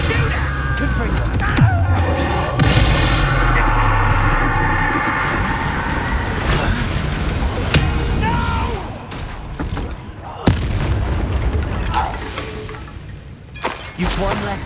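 Spell explosions from the Confringo fire curse in Hogwarts Legacy, a dense run of bursts, crashes and shattering blasts stacked over busy combat noise and game music, with a sharp loud hit near the end.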